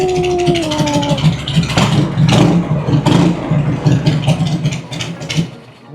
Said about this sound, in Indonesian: Menggelegar dan menyenangkan bukan suara dari Harley Davidson bermesin shovel head ini?